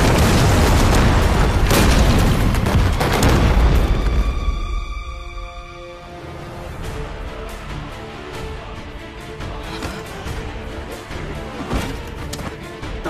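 Artillery shells exploding in a war drama battle scene: a dense barrage of heavy booms for about four seconds, then a lingering rumble and ringing tail with scattered smaller blasts.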